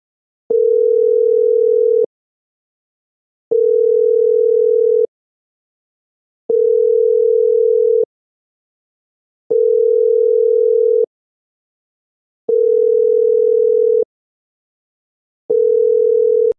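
A telephone line gives a steady mid-pitched dial tone while a call is being placed. It comes in six even bursts of about one and a half seconds each, separated by short silences, and no voices are heard.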